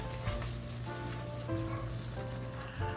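Fish simmering in sauce on medium heat makes a steady, close bubbling sizzle with soft crackles and pops throughout.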